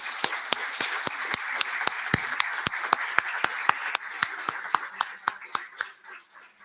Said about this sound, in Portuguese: uma salva de palmas a todos os que estão aqui presentes